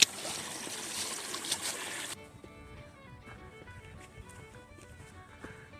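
An Appalachian Trail stream swollen with early March spring runoff rushes loudly and close for about two seconds, then drops to a quieter, steady trickle and burble.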